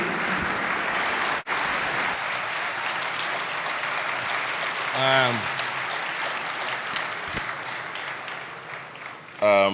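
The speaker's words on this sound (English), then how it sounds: "Please join me with a warm applause as we welcome Professor Charles Soludo" Sustained audience applause at a Nigerian independence lecture welcoming Professor Charles Soludo, a steady dense wash of clapping filling the whole stretch with a brief dip near the start.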